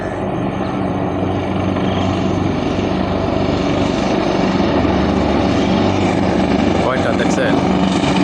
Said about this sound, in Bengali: এটা হলো হেলিকপ্টার।